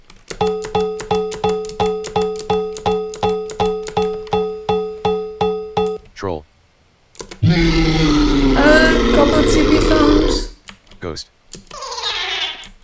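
A rapid series of evenly spaced chiming blips plays in a steady rhythm, followed by a short bright jingle and a noisy burst of electronic game sound: a video game mailbox sound.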